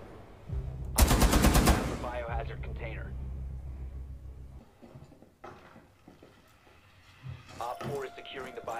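Rapid machine-gun bursts from Tachanka in the video game Rainbow Six Siege, a loud dense volley followed by scattered shots and clinks, with voices talking over the action.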